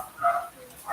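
Several dogs bark and yip excitedly as their owner arrives home in the evening, a couple of short bursts of high-pitched barking at moderate distance.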